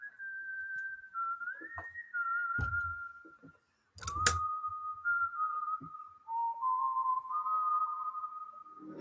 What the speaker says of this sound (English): so it goes into the whistling